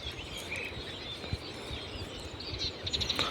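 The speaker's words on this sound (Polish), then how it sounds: "A ptaszki jak śpiewają" Faint birdsong by a pond, with thin high chirps and trills scattered over a quiet outdoor background, a quick run of notes near the end.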